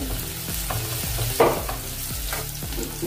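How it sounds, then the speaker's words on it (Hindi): Green chilies, chopped onion, bay leaves and asafoetida stir-fry in a pan with a close, crackling sizzle. A spatula scrapes in rhythmic strokes roughly every half second, and one sharper clatter stands out near the middle. "अच्छी तरह इसको भुनेंगे"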